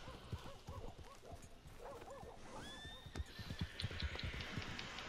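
A galloping horse in the western game Red Dead Redemption 2 pounds out rapid hoofbeats under snorting and a whinny, with a rising tonal sweep partway through and growing rumble toward the end, fairly quiet overall.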